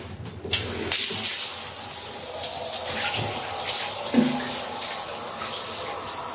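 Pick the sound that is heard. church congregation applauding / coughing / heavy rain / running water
running water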